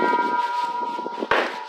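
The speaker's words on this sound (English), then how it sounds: "Those are my wind chimes that you're hearing in the background." Metal wind chimes ring in the background on a very windy day outdoors, giving soft sustained overlapping tones over rough gusting wind noise, with a brighter, louder chime burst near the end.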